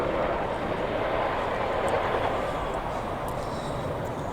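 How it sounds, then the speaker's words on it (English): RAF Chinook twin-rotor helicopter at the Cosford air display, a loud, steady broadband engine and rotor roar that holds level throughout, close and continuous with no voices. "That's the aircraft now about to pull up to 30-degree wing over."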